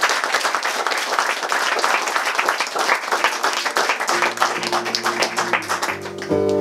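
Audience applause at an album launch gig in Limerick, a dense, loud round of clapping from a small crowd, with instrument tones creeping in toward the end.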